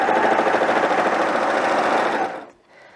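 Sewing machine stitching a romper cuff, a fast steady motor whir with rapid needle rhythm running loud and close, then stopping abruptly near the end.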